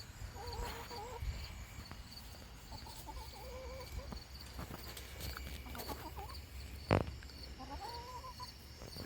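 Chickens cluck softly in short repeated bursts, a little distant, over a low background rumble with an occasional sharp knock.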